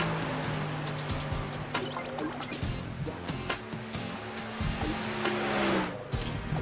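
Onboard sound of a Stars & Stripes Truck Series race truck lapping Michigan with Dylan Grimm driving: a steady, loud engine drone with shifting tones and tire noise throughout, no pause.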